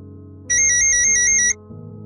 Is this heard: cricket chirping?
no